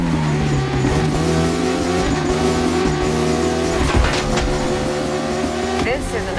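Engine whine of a Ducati Panigale motorcycle ridden hard through a dark urban area in the racing game The Crew Motorfest, with steady loud revving, rising shifts and brief tire squeal throughout.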